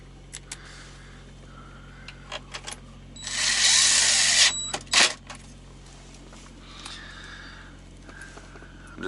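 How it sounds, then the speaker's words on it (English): A power screwdriver driving screws during repair work on a dump valve and load scale, one loud whirring burst of about a second followed by a short second spurt, amid quiet clinks and handling noise. "time to start shooting screws"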